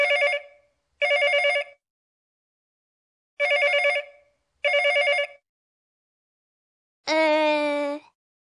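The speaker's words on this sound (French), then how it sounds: "Le téléphone." An electronic telephone rings in four bright trilling bursts, paired with pauses between, followed by a longer, higher ring at the end, from the video game Adibou: Aventure.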